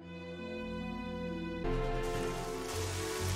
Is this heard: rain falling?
yes